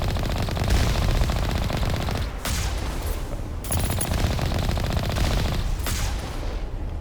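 Sustained automatic gunfire in the video game Mass Effect rattles in dense, loud bursts with brief gaps between volleys. No voices are heard over the shooting.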